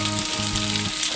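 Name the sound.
stirring rice in a hot pot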